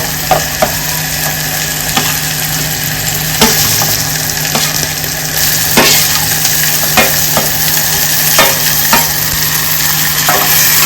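Tomatoes sauté in hot tempering oil for chole, a steady broadband sizzle with a spatula scraping and stirring the pan every second or so, close and fairly loud, no voices.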